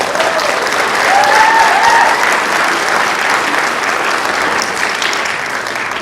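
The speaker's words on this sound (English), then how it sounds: "a round of applause" Concert audience applauding choreographers, loud sustained clapping from a large crowd filling the hall, with a few whoops rising briefly early on.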